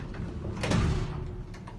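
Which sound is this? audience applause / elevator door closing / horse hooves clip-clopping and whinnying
elevator door closing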